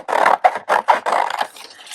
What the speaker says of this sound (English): use a 1 inch circle punch to punch these out